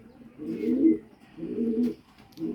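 Soft, low cooing of a female pigeon in three rolling phrases, the last cut off, close by with no talking.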